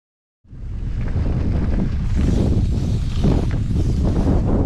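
Strong desert wind on a crater in New Mexico buffets the microphone in a loud, continuous roar with gusty surges, starting abruptly after a brief silence.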